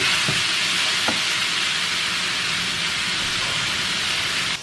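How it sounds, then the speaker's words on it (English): Low-carb keto breakfast food frying in a pan gives a steady hiss and sizzle, close and even, with a couple of faint knocks early on and no talking. "I'm just going to fry this until it is done"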